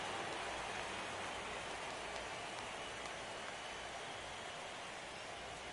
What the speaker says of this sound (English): the rain is coming down hard here